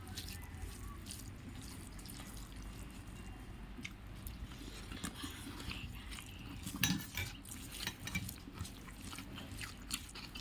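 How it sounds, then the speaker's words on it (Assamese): A meal of rice, dried fish, egg and dal being eaten, with quiet clinks of dishes and utensils and soft chewing sounds throughout, fairly faint and close. "এতিয়া ভাত খাব লৈছোঁ"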